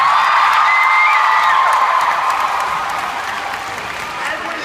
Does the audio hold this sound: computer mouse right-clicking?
no